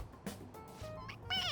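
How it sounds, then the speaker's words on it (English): A stuffed toy cat in Persona 5 Royal gives a short, high, rising meow when pressed, faint and brief at the end, with a softer earlier squeak. "It meows when you press on its head."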